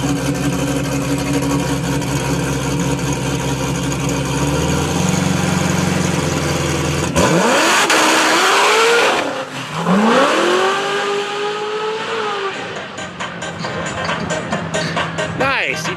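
A20 Performance Corvette making a drag racing pass at XRP: a loud engine revs hard at the line, then roars away and fades as the car accelerates down the track, with a commentator talking over it.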